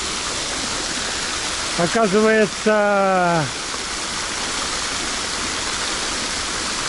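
Water splashing steadily in a fountain, its murky, slightly soapy-looking water giving a continuous rushing wash throughout, while a voice speaks briefly partway through.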